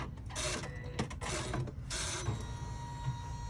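An embroidery machine stitches Hoop 2 of a gamer bag, producing a series of close mechanical clattering bursts and whirs with brief gaps as the hoop moves into position.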